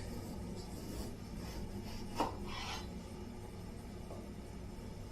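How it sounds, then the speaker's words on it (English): A knife cuts down through a firmly held eggplant, making a soft rasping scrape with a sharper crunch partway through, close and fairly quiet against steady room noise. "So just take the knife, hold the eggplant firm, and you can just slice straight down."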